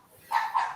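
A dog barks twice in quick succession, fairly close and moderately loud, at a home with several dogs, the two short barks set against a quiet background.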